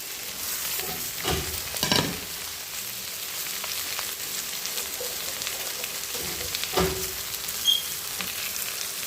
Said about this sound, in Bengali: এবার সরিষার শাকগুলো দিয়ে দিলাম তারপরে ভেতর শাকটা দিয়ে দিলাম